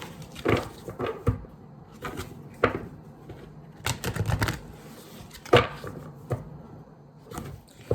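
Tarot cards are shuffled by hand in three shuffles, giving close, crisp bursts of riffling and tapping separated by short pauses, with no talk.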